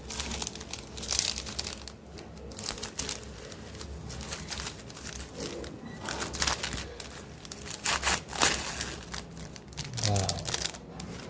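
Crinkling and rustling of plastic or paper packaging being pulled open from around drawing supplies such as colour pencils and a blender tool, in irregular bursts, close by.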